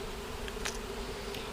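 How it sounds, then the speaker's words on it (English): A swarm of bees drones in a steady, faint hum that lasts throughout, with no voices. "Bees."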